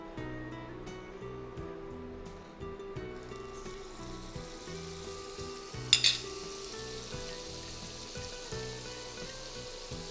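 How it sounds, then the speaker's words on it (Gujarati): Butter sizzling in a hot pan as pav buns toast, a steady crackling fry, with a sharp burst of sizzle midway, over a constant background of music. "હવે આ પેન ગરમ થઈ ગયું છે, આપણે એમાં બટર નાખી અને પાઉં શેકીશું."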